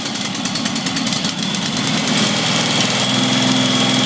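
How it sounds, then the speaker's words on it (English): A Kohler Command Pro 27 engine on a Vermeer BC600 wood chipper cranks, catches and settles into a loud, steady idle with a low rhythmic throb, recorded close and alone. "To start it, you set the choke all the way shut, give it about a third throttle,"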